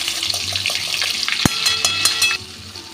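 Butter sizzles in hot mustard oil seasoned with salt and slightly burnt sugar, the base for a chicken curry: a steady, close frying hiss with one sharp clatter midway.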